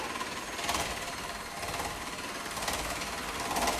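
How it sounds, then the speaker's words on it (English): An electric mixer beats coffee cake batter in a bowl, giving a continuous, fairly loud mechanical whir with a rattling texture that holds steady throughout, close and alone. "I'm just gonna use a mixer and beat this up"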